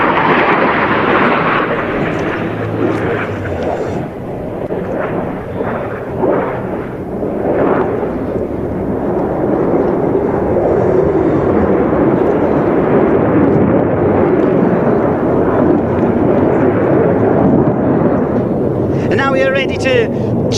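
A Eurofighter Typhoon fighter jet performs a flying display at an air show, its broad engine roar steady and loud throughout, with crowd and commentary voices mixed underneath.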